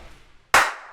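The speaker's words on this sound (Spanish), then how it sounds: "¿Aplaudo?" A single sharp hand clap, close and loud, ringing briefly into a quiet room.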